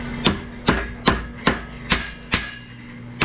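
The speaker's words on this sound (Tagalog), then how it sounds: "Yan, nagpupukpok ulit tayo." Hammer blows strike a metal sidecar mudguard eight times at a steady, even rhythm, each a sharp close clang that rings briefly, with a faint hum beneath.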